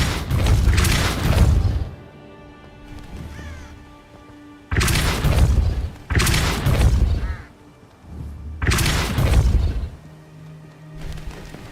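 A Depulso repelling spell is cast in the Hogwarts Legacy video game as three loud, forceful thumping bursts, each lasting about a second and separated by quieter gaps of ambient game sound.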